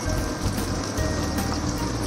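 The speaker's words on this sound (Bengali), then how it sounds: "এবারে তেলের মধ্যে কেটে রাখা বিনসটা দিয়ে দেব।" Cut green beans dropped into hot white cooking oil for veg Hakka noodles, sizzling in a dense, steady crackle without a break.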